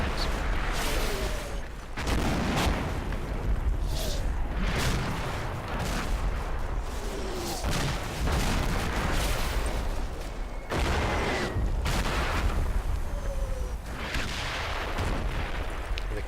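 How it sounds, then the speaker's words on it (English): Artillery barrages in the WWII game Combat Mission land on retreating American troops: repeated heavy booms and explosions at irregular intervals over continuous battlefield rumble, with some blasts nearer and sharper than others. "My artillery falls on the retreating Americans."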